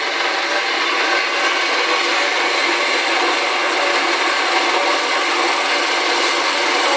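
A power saw cutting steadily through the rear axle of a 1955 Chevy, a continuous loud, bright grinding hiss with no pause, and no talking.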